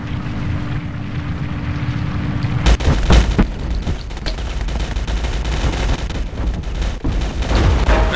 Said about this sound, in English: Now he's using cannons.